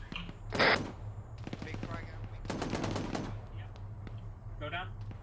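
Gunfire in ARMA 3, bursts of rapid automatic shots at mid distance with scattered single cracks, heard under a person talking over radio.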